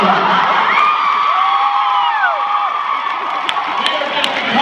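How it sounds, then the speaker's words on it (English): A convention panel audience at NashCon cheers and whoops loudly in a sustained wash of crowd noise. Individual shouts rise over it, and a few sharp claps come near the end. "They're cheering because they want to cradle your junk"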